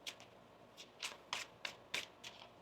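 Tarot cards are shuffled by hand in a series of quick, crisp riffling bursts, about eight short flutters in an uneven rhythm, close and fairly quiet.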